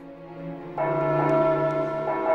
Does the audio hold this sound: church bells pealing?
yes